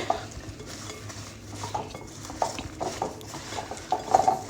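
Spices for a green chilli pickle being stirred and mixed together in a bowl, with soft scraping and clinking of a spoon against the dish, steady and close, growing a little busier toward the end.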